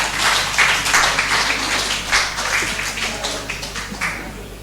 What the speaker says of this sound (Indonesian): Kasih tepuk tangan yang luar biasa